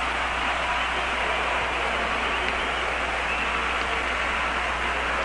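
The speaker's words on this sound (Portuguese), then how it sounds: "E outra vez a torcida gritando Coutinho" Flamengo and Vasco supporters fill the Maracanã stadium, a dense, steady roar of crowd noise holding at one level throughout, with no single chant standing out from the mass of voices.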